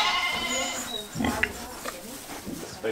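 Pigs grunt and snort close by, with a few short low oinks and squeals among a busy barnyard background.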